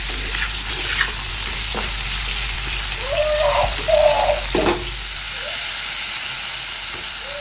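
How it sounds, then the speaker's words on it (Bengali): Pumpkin frying in a pan, a steady close sizzle with a few stirring knocks, while pigeons coo softly in the background. "আর এদিকে আমার অলরেডি কুমড়ো ভাজাটাও বসিয়ে দিয়েছি।"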